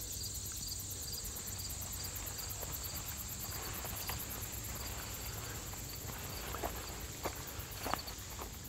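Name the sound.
insects chirping in autumn woods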